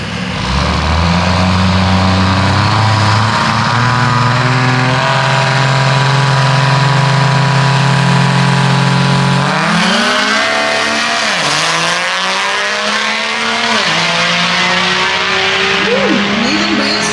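A 2001 Duramax diesel pickup roars at a diesel drag strip, its loud, close engine droning steadily and then climbing in pitch through shifts and revs for the whole stretch.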